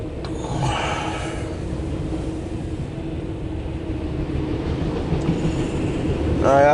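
A CSX intermodal and autorack freight train rolls past close by, a steady loud rumble and rail noise that holds throughout and swells slightly toward the end.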